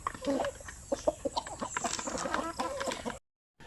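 Zampen native chickens cluck in a breeding pen, a close cluster of short, irregular clucks and murmurs lasting about three seconds before stopping abruptly.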